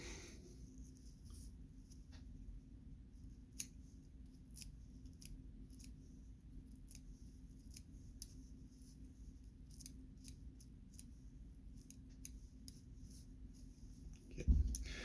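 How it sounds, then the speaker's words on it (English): Small scissors snip excess hair at the base of a dorsal fin on a fly-tying piece, giving a string of faint, sharp, regularly spaced clicks over a quiet hiss, ending in a louder bump. "I forgot to cut the excess of hair at the base on the dorsal fin"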